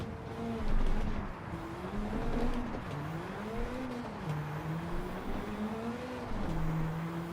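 Race car in a racing video game driving a lap, its engine note continuously climbing and dropping through shifts and corners, steady and close with no talking.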